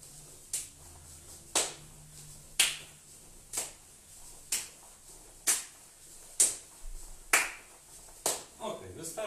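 Sharp hand claps ring out one by one at an even pace, about once a second, fairly close, with faint talk near the end.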